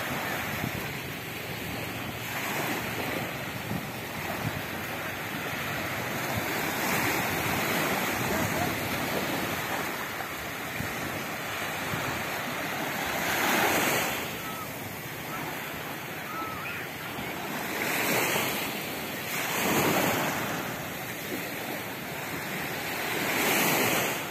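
Sea waves wash onto a Sulu Sea beach during a fishing outing, a steady broad roar with louder surges breaking every few seconds under gusty wind noise on the microphone.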